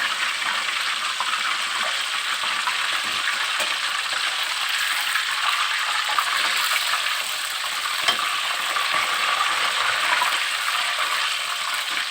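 Steady, dense sizzling of chicken frying in hot oil for Minang-style ayam pop, continuous and close, with no talking.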